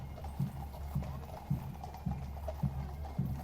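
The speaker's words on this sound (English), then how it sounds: "Now we're going to follow these horses." Horses of the Blues and Royals walk along a London street, their hooves clip-clopping in an even, regular rhythm of distinct, fairly close strikes, with faint voices in the background.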